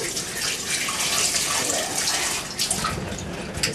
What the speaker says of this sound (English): Rinse it a couple of times